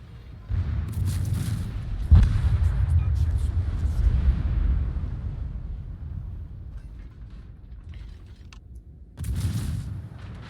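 Naval battle in World of Warships with torpedoes: a heavy boom lands early, followed by rumbling explosions and gunfire that fade, then another burst of blasts near the end.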